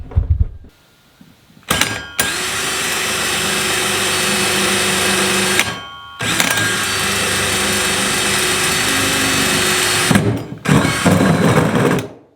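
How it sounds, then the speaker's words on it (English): A power drill bores holes into a plastic chicken feeder in three long, loud whining runs separated by brief pauses, with short bursts at the start and end. "So now we'll just drill 4 more holes"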